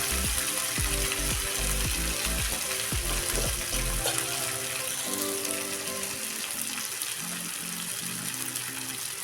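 Chopped tomatoes hit a pan of frying onions while cooking jowar upma, setting off a loud, continuous sizzle and hiss, with a few soft knocks early on before the frying settles into a steady crackle.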